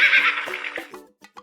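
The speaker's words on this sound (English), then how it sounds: "Horse." A horse neighs loudly up close, a high whinny that falls and breaks into a few short snorting bursts at the end.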